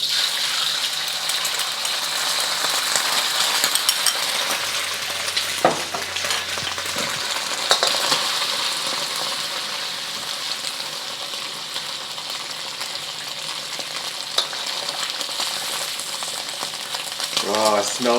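Egg frying in oil in a hot wok while making char kway teow, a steady loud sizzle running throughout with occasional scrapes and clinks of a utensil, and a brief clatter near the end.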